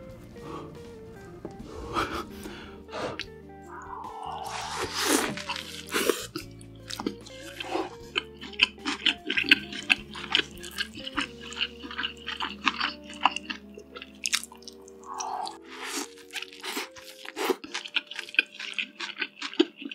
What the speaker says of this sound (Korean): 다음은 제가 직접 만든 빅맥 먹어볼게요